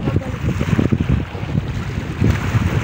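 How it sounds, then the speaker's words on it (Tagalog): Strong wind buffeting and roaring steadily, gusting louder in waves, with no voices. "Mahangin. Masarap na hangin."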